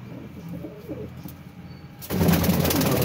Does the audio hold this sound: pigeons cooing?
yes